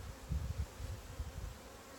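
Honeybees buzzing at an open hive during an inspection and feeding, a low, steady drone with soft pulsing swells, heard alone without talk.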